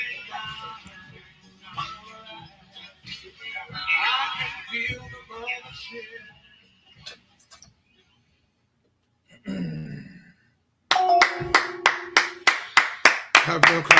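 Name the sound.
group clapping hands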